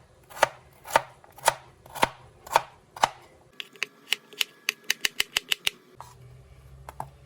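Potatoes are chopped into small pieces on a board: six slower, evenly spaced knife strikes, then a quicker run of about a dozen sharp taps, close and clear with no talking.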